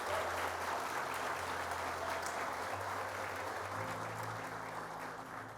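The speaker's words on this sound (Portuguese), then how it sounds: "Dá uma salva de palmas para o Senhor." A church congregation claps in sustained, dense applause that holds steady and then fades slightly at the end, with a low hum of music underneath.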